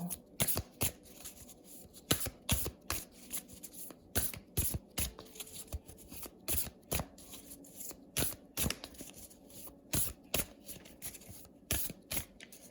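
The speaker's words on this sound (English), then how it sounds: "I'm gonna pull this oracle card." Cards are handled and shuffled while oracle cards are drawn from a tarot deck, giving quick crisp riffling and snapping sounds in an irregular, steady rhythm, close and fairly quiet.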